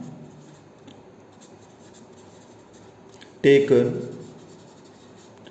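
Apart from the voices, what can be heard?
writing during a physics lecture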